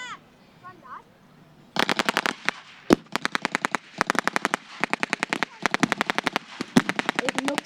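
Rapid bursts of blank gunfire crackle through a military battle reenactment, volleys of sharp cracks in quick strings and scattered single shots, loud and fairly near after a quieter opening.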